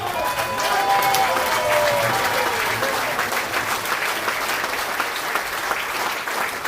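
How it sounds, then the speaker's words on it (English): Sustained applause from a large standing audience at a party congress honouring its leaders, dense steady clapping that fills the clip, with faint voices mixed in. "give a loud round of applause to these, our great leaders"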